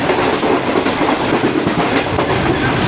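Shalimar Express passenger train rolling along the rails, a loud, steady broadband rumble with a faint clickety-clack running through it, heard up close from inside the moving coach with no voices.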